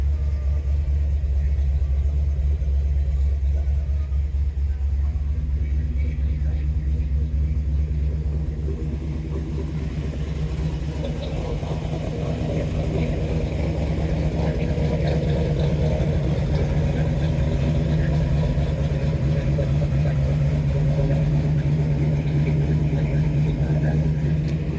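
A Ford Fairlane with a 312 V8, dual quad carburetors and headers idles nearby, a steady deep burbling rumble that holds even and unbroken, with no talk over it.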